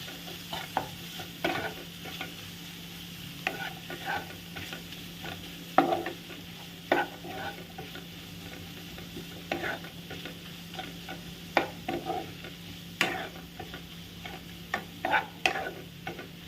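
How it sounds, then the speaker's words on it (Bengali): Paneer and beans sabzi is stirred in a pan, with repeated spoon scrapes and clacks at an irregular rhythm over a quiet, continuous frying sizzle. "এবার এটাকে নাড়াচাড়া করতে হবে।"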